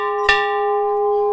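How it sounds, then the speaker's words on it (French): A notification bell sound effect rings once with a sharp bright strike, then a clear pure tone with overtones sustains loud and steady, barely decaying, for over a second. "elle fait mal aux oreilles cette cloche de notification"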